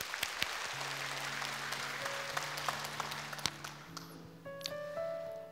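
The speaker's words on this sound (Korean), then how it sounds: "우리 박수로 맞아주세요." Congregation in a church hall applauding to welcome a speaker forward, a moderate crackle of clapping heard at some distance, with sustained musical tones from an instrument playing underneath.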